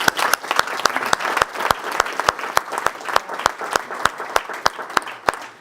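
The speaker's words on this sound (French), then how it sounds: "on peut les applaudir" Audience applause at an evening event of a foundation's junior strategic committee, a smallish group clapping in a steady, moderately loud burst of distinct individual claps with a light crowd murmur beneath.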